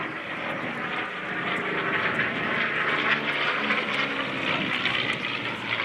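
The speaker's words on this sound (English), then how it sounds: "Nice high-speed pass across the field from the left." P-63 warbird with an Allison V12 engine making a high-speed pass across the field at an air show, a loud, close, sustained engine roar that swells slightly midway with no talk.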